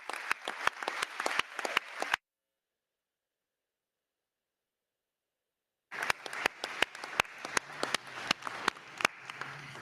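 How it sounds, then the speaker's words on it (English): Scattered applause rises from the audience at a school board meeting, sharp individual claps heard faintly, cut by a few seconds of total silence before clapping resumes. "Your students deserve a round of applause."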